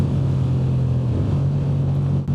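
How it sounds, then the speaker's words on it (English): A CFMOTO 450 CL-C motorcycle engine gives a steady, low rumble at constant speed on a highway, loud and continuous with no talk over it. "the little rumble is really nice"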